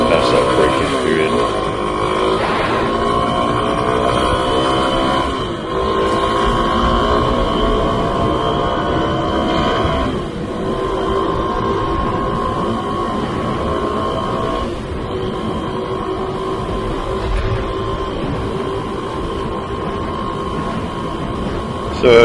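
A Kawasaki KLX 300 motorcycle, still in its break-in period, is ridden with a continuous close engine drone whose pitch rises and falls through gear changes over steady wind rush.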